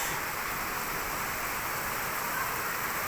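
Steady rain after a long heat spell, rooftops around, pours as an even, dense hiss without a break, close and fairly loud, with no voices.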